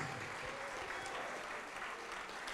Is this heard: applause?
yes